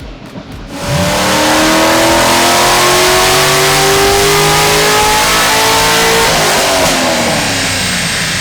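A 2022 Chevrolet Suburban fitted with a Corsa exhaust and a Stage 3 427 setup revs hard on a dyno pull. The engine note stays loud and close, climbing steadily through the run with no talk over it.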